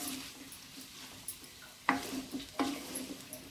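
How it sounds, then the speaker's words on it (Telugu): Potatoes and onions sizzling in a pan for an egg curry, a steady soft frying hiss broken by a couple of scraping stirs with a spoon against the pan, close and without talk. "ఆనియన్స్తో పాటు ఆలు కూడా వేసేసాను. ఒకసారి వేగుతాయి"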